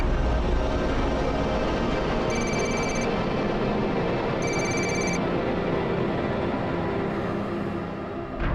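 A telephone rings in two short electronic bursts over a steady, loud background hum, with no voices.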